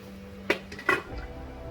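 Metal lid set down over a pot of prawn gravy simmering on a medium flame: two quick clinks about half a second apart, light and close, then quiet.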